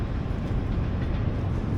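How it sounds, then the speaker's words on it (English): A train crossing a bridge in Toronto, a steady low rumble of rolling rail cars heard at moderate distance, continuous and fairly quiet, with no talking over it. "Oh, there's a train going by on that bridge."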